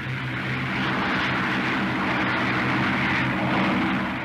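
A 1940-era RAF fighter plane takes off with its engine at full throttle, a loud, continuous propeller-engine roar that holds steady and dense for several seconds.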